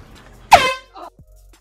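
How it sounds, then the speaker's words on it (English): A single loud, blaring air horn blast, short and piercing, followed by a brief quieter rustle and a small knock. "I grabbed the air horn"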